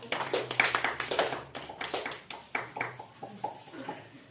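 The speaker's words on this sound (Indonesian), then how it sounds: "oke, kasih tepuk tangan untuk kawannya." A class of students applauding a classmate, a fast irregular patter of many hands clapping together, steady and fairly close, with a faint voice underneath.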